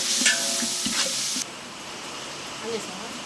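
Tomatoes frying with ginger and masala for a large biryani batch, heard as a broad hissing sizzle that is loud at first and then drops to a quieter steady sizzle, with a voice talking over it.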